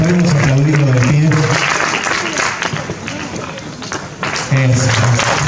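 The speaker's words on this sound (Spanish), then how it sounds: "podemos aplaudirlo de pie." A book presentation audience breaks into strong, continuous applause, with a speaker's voice at the start and end and crowd murmur mixed in.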